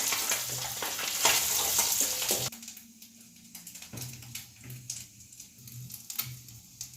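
Duck eggs fry in oil with a loud, dense sizzle for the first couple of seconds, then the hiss drops to a quieter crackle with occasional stirring knocks.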